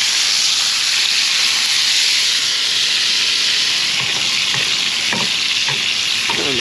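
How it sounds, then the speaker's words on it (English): Food sizzles steadily in a hot pan during basting at a truck camping cook site, a dense continuous frying hiss with a few brief clicks and scrapes near the end, close and fairly loud with no voices. "Trying to baste them a little bit."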